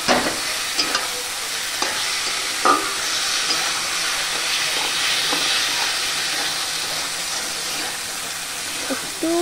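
Ridge gourd in poppy seed paste frying in a pan, giving a steady hissing sizzle with occasional stirring knocks, close and continuous with no talk.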